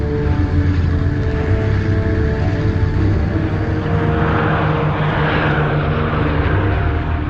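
Droning propeller engines of German bombers over Britain during the Blitz, a steady, loud, continuous roar with layered engine hum that holds without a break throughout.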